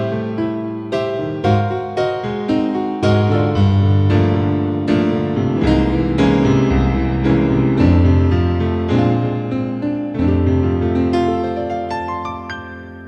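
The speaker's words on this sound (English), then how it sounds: "this one's grand piano general MIDI, and it sounds like this." Casio MZ-2000 keyboard playing its General MIDI grand piano sound, a flowing passage of struck chords and melody notes with clear attacks and ringing decay, close and alone without talk.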